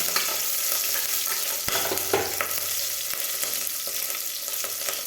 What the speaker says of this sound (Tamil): கருவேப்பிலை மிளகாய் பச்சை மிளகாய் ரெண்டு மிளகாய் இதெல்லாம் போட்டு நல்லா வதக்கலாம்